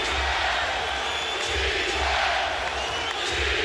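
Basketball arena crowd on its feet during a 2009 Western Conference Finals game, Nuggets against Lakers, with a dense, loud roar and rhythmic chanting swells under continuous noise.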